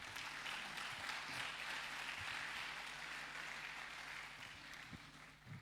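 Church congregation applauding during a Spanish-language service, a broad continuous patter of many hands heard faintly from a distance, with a low steady hum and occasional soft thumps beneath it.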